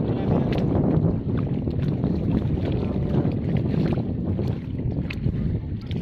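Steady, rushing wind buffets the microphone in a constant low roar outdoors at night, with faint splashing water underneath and no voices.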